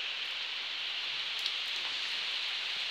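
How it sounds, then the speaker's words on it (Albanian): Steady rain falling outdoors in early summer, an even, continuous hiss of drops on surfaces at moderate distance, with no talking. "And rain."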